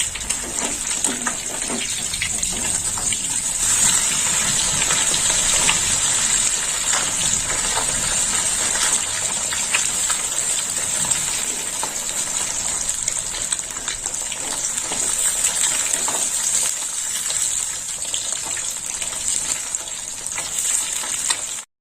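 Parshe fish, five at a time, frying in hot oil after being flipped over in the pan, giving a loud, steady, continuous sizzle with a bright hiss that holds for the whole stretch, no voices.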